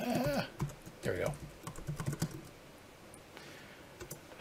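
Computer keyboard typing during a late-night coding session: bursts of quick, light key clicks run under and between a man's speech.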